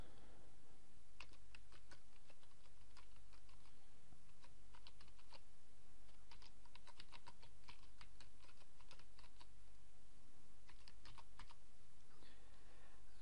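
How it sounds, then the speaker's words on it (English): A computer keyboard clatters under steady typing as a username and email address are entered, coming in bursts of quick keystrokes with brief pauses between them over a constant low background hum. "I'm going to give the new user the username Sam the Man, and the email address"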